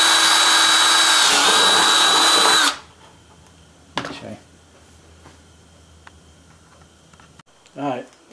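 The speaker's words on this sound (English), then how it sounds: "Go around the opposite side and drill the same hole" Power drill boring a hole through two-ply wood for a homemade rolling log mousetrap, a loud high whine for under three seconds that stops abruptly, followed by quiet handling knocks and a short voice.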